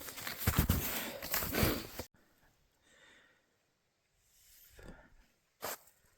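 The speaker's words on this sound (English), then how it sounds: "As you can hear from me just panting nonstop." A hiker breathes heavily and pants while climbing toward Mount Marcy in the Adirondacks; rough, rhythmic breaths sound close for about two seconds, followed by quieter rustling and a final short breathy burst.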